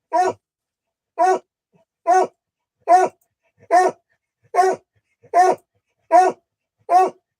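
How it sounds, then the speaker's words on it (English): A dog named Patches gives nine evenly spaced barks, each short and sharp with a whiny, whimpering edge, roughly one per second, loud and close with silence between. "Patches. Patches. Crazy dog."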